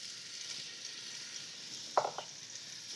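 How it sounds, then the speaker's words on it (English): Onions fry in a hot pan with a soft, steady sizzle, broken by one brief utensil clink partway through. "So let's put the onions in."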